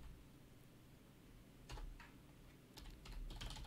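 A computer keyboard is typed on in quiet bursts, with soft rapid key clicks in two short clusters over a low steady room hum.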